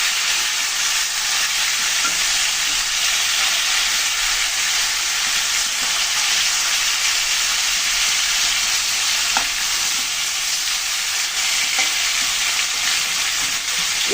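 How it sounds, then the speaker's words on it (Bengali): Tilapia fish frying in hot oil, a dense steady sizzle with faint crackles and occasional clinks, close and continuous without any talk. "মাছটা ভালো করে ভেজে নিলাম, এখন তুলে নিচ্ছি।"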